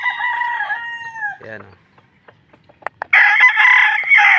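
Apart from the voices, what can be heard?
rooster crowing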